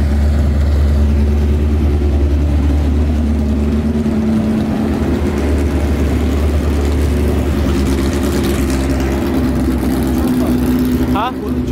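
Car engine idling and revving as a car is pulled out at a Honda event, a loud steady low rumble with some mechanical clatter near the end, nearby and continuous.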